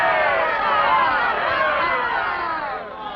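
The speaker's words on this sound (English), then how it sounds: "Let me hear, for our good councillors, a thunderous cheer" Crowd cheering for the town councillors of Hamelin, a dense burst of many voices shouting and hollering together, loud and sustained before easing off toward the end.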